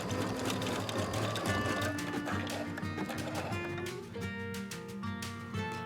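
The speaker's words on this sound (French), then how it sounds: "on rassemble ces deux extrémités et on les coud au point zigzag" Sewing machine running a zigzag stitch on fabric for an elastic food cover, a continuous close mechanical whir with a dense rhythmic texture throughout and background tones underneath.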